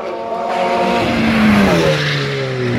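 A turbocharged Spitz race car of about 400 PS at the Hemberg hill climb in 2017 roars past loudly, its engine pitch sweeping upward and then dropping as it passes.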